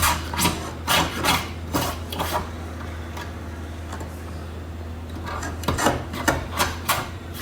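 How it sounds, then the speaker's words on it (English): Workers scrape paint off a ship's windows, rasping strokes coming in uneven bursts close by over a constant low hum, with a quieter lull in the middle before the scraping picks up again. "And now these guys are scraping it off."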